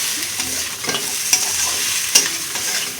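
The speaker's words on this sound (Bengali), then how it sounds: "দেখো সুন্দর করে মশলার সঙ্গে মাছটা মিশিয়ে নিয়েছি।" Fish pieces coated in spices are stirred in a sizzling pan for an oily curry, brisk close hissing with a few sharp spatula knocks against the metal.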